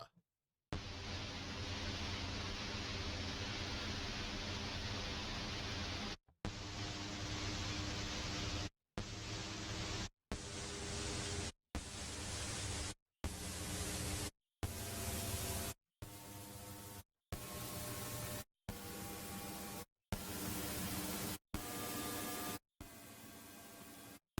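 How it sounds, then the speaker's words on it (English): A VHS noise generator plugin puts out a dense hiss with a low hum, first as one long burst, then chopped into a series of short, evenly spaced blocks of noise separated by clicks and brief silences. "So this is VHS noise generator."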